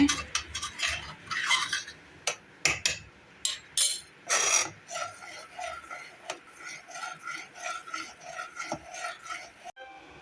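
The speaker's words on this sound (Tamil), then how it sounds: "ஒட்டியிருக்கதை எடுத்து விட்டுட்டு கிளறுங்க" A spoon stirs and scrapes thickening thirattupaal milk sweet in a pan, giving a series of sharp scraping strokes and knocks against the metal, loud at first and then settling into a steadier rhythmic scrape.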